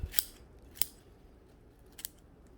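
Pruning cutters snipping into a mallee bonsai trunk to cut a V shape, with three sharp, close crisp snips spaced apart against a quiet background.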